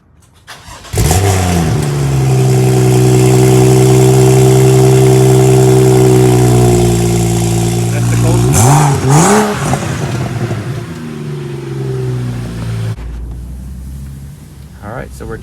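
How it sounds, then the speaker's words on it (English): A BMW 435i with the N55 engine and a catless downpipe cold-starts with a sharp crank and catch, then settles into a loud, steady, droning high idle with a brief rev blip before quieting near the end. "Alright, so we're about to do a cold start."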